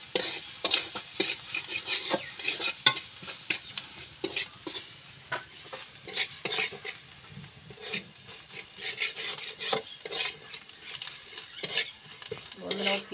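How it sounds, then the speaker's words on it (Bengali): Onions frying in a pan for a masoor dal dish, with constant stirring that gives a rhythmic run of spatula scrapes and clinks on metal over a soft sizzle, close and without talk. "এবার আমি ভালো করে পেঁয়াজটা ভেজে নেবো"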